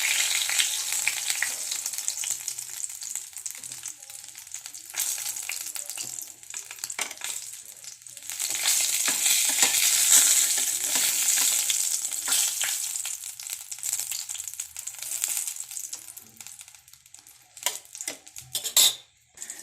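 Fish roe paturi wrapped in banana leaf fries in a pan with a steady close sizzle and crackle, rising through the middle and broken by a few scraping utensil clinks near the end.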